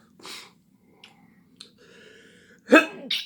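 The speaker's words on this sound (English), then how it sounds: "Sneezing." A man who is sick sneezes sharply near the end after a few soft breaths and clicks, a sudden loud burst followed by a brief trailing exhale.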